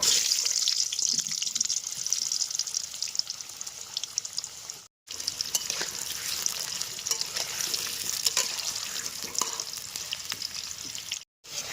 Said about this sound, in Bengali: এবার আলুগুলো লাল লাল করে ভেজে নামিয়ে নেবো।